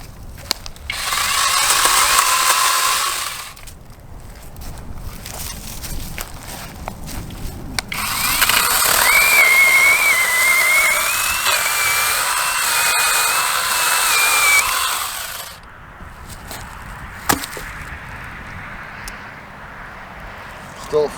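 A battery-powered Imoum tree trimming tool cuts through branches in two long, loud buzzing bursts separated by quieter pauses, with a person talking in between.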